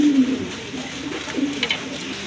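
A pair of big racer pigeons coo nearby in low, repeated throaty calls, with faint background noise and a brief higher chirp partway through.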